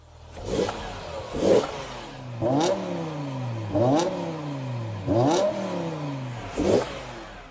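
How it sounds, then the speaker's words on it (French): A BMW M5 engine, still a little cold, being revved several times while stationary, with loud rising-and-falling blips repeated about six times in a steady rhythm and an idle between them. "Maintenant, accélère une ou deux fois."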